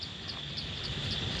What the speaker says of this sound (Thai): เสียงกบเสียงเขียดเสียงนกเสียงนูแซวอยู่ฟังคักๆพี่น้อง